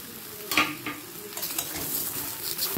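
Soaked soybeans and peas being stirred into hot oil in a frying pan for a katla fish curry, soft sizzling with scattered scrapes and clinks of a spoon against the metal.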